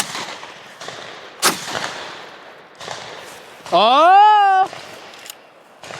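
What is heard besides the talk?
SDS Imports semi-automatic shotgun firing without handguard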